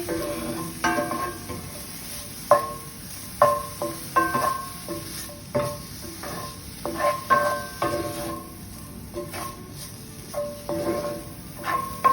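Garlic sautéing in a pan for rasta pasta, with a soft steady sizzle and repeated clinks and scrapes of a utensil stirring against the pan at an uneven rhythm, close by and with no talking.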